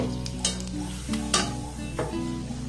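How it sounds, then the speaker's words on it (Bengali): Raw peanuts frying in hot oil alongside rice, a steady close sizzle with periodic scraping strokes of a spatula in the pan. "বাদামটাকে এর মধ্যে দিয়ে কিন্তু আমি একটু ভেজে নেব"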